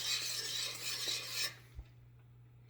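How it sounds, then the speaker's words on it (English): Close, raspy scraping of a utensil stirring caramel sauce in a pot for about a second and a half, then quiet with a steady low hum and a soft tap. "Keep stirring."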